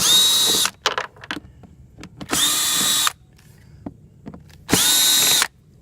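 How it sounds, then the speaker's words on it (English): Three bursts of a power drill whirring at a steady pitch while removing screws from a Champion generator's front cover, each lasting under a second, separated by clicks and handling noises. "And I take these things apart with a drill,"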